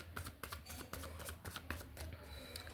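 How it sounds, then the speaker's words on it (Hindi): Tarot cards are shuffled by hand and slip loose, making a close, quiet riffling with quick soft flutters and light slaps of falling cards. "कार्ड्स अपने आप गिर रहे हैं आपके पार्टनर की एनर्जी के।"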